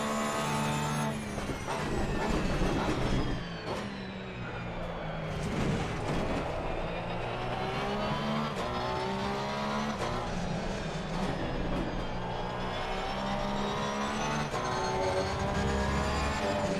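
A Porsche 911 GT3 race car engine in the video game Assetto Corsa Competizione screams loudly and continuously at the Nürburgring, its pitch rising and falling through gear shifts and braking, with tire and wind noise underneath.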